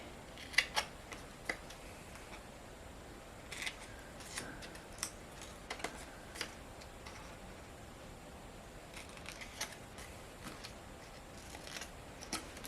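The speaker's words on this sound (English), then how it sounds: "And then from the bottom I will cut through to that intersection with an angle" Card stock being cut along score lines, heard as sparse, faint snips and light ticks scattered over a quiet background with long gaps between cuts.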